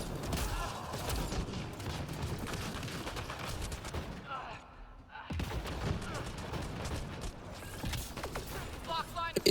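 Rapid bursts of gunfire in a Mass Effect multiplayer match on Firebase Zero, a Turian Havoc firing at Outlaw enemies, dense and continuous apart from a brief lull midway, with a voice talking over the shooting.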